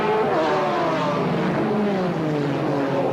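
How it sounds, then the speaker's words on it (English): McLaren GT race cars from the 1995 BPR Global GT Series pull away at the start at Paul Ricard circuit, a loud continuous engine roar with rising pitch sweeps as several cars accelerate together. "Start of the race then, and the McLarens set off up front."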